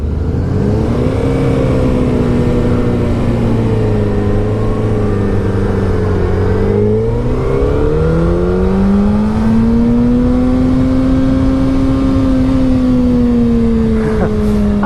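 A 2016 Suzuki Hayabusa 1340cc motorcycle engine revs loud and close, its pitch rising, dipping, then climbing again in a long sustained whine with heavy wind rush.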